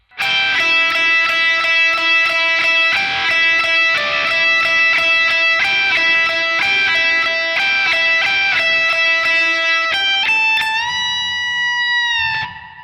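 A guitar plays a line of a song, with a steady fingerpicked rhythm of bright, ringing notes that ends in a held bend fading out, played alone and up close.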